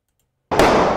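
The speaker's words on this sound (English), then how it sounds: "Video that captures what sounds like more than a dozen gunshots." Loud, close burst of sharp cracking reports erupting after silence, dense and continuous like rapid gunfire, filling the second half of the moment; no talk.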